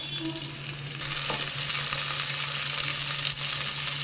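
Chopped onions drop into about a tablespoon of hot oil and fry with a steady, bright sizzle, close and continuous for a few seconds. A faint low hum runs underneath.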